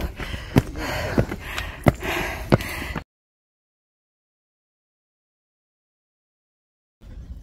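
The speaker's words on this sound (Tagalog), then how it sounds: "Hingal na ako." Heavy, ragged panting from a hiker after climbing up to a temple near Takao, Tokyo, several sharp breaths close to the mic for about three seconds before the sound drops out to silence.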